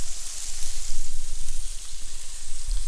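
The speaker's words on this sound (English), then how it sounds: "The bacon and onions coming along good." Bacon and onions frying in a pan, a steady bright crackling sizzle close up and fairly loud throughout, with no speech.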